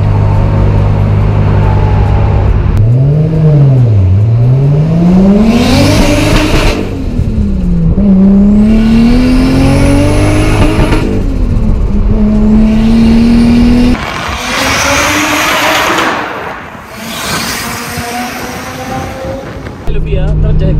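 A Toyota Supra MK3 with a 2JZ engine revs hard while driving, heard loud and close through an open window, with repeated rising and falling engine pitch as gears change and a brief lull near the end.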